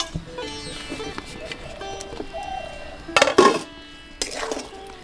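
Vegetables such as potato and cauliflower are mixed with millet rice in a cooking pot, giving a few metallic scrapes and clanks that peak midway, while birds coo and call in the background.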